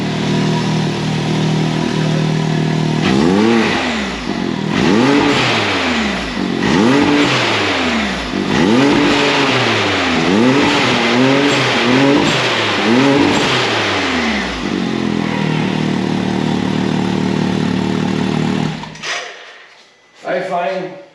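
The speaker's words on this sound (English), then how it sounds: "you guys want to go listen to the exhaust in the back" A Can-Am Maverick X3 with an RPM cat delete pipe revs hard and repeatedly, each throttle blip rising and falling in a deep, loud exhaust roar, then idling before the engine cuts off near the end.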